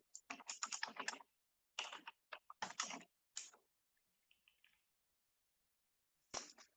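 Rapid close clicking of a computer keyboard while writing JavaScript code for a memory game, bursts of fast keystrokes separated by pauses, with one last short burst after a quiet gap.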